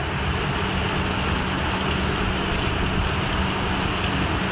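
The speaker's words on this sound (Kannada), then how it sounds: "ಸಖತ್ತಾಗಿ ಮಳೆ ಹೊಡಿತಾ ಐತೆ" Heavy rain in Goa pours down in a dense, unbroken hiss, loud and close throughout, with no voices.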